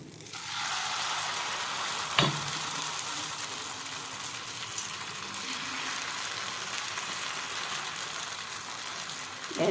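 Oil sizzles steadily on a hot griddle as a millet rice dosa cooks, a constant bright hiss close up with one short clack partway through.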